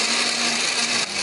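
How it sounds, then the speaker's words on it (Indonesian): An electric blender grinding spice paste with a little water, a loud, steady whirring drone running without pause. "Di sini aku menghaluskannya menggunakan blender."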